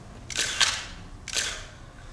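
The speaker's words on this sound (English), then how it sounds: "Can I get a shot of the Ewing?" Two crisp camera shutter clicks from a single-lens reflex camera, about a second apart, taken at a presidential photo opportunity in 1985, each a sharp broadband snap over low room noise.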